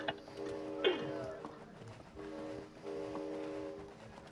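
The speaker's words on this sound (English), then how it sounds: "I'm passing this damn train" Train passing in the video game It Takes Two, heard as a faint rhythmic rumble and clatter with repeated tonal horn-like blasts in two bursts, under quiet background sound.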